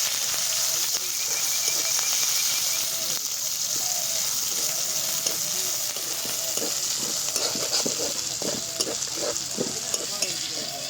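Crushed ginger and chili frying in a pan with panch phoron spices and dried red chilies, a steady loud sizzle throughout with repeated scraping stirs of a spatula close by.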